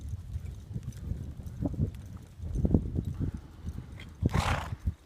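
Horse hooves clip-clopping on the circle during a barrel racing warm-up, steady footfalls in soft ground with a snort or whinny near the end, moderately close.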